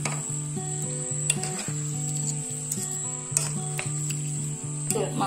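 Vegetable noodles topped with tomato sauce being stirred in a pan, a soft sizzle with occasional scraping and tapping of the utensil, under steady background music.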